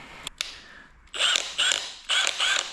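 A Milwaukee M18 impact wrench (2962-20) tightening on a low setting: after a couple of faint clicks, three short, loud mechanical whirring bursts come in quick succession.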